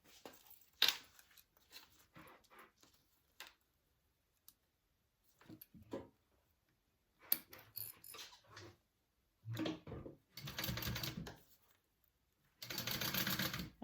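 A sewing machine bastes a bag in short, separate stitching bursts of quick rattling clicks, the longest near the end, with quiet handling sounds in the gaps between runs.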